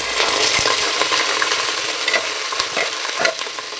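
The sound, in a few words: onions and curry leaves sautéing in oil for biryani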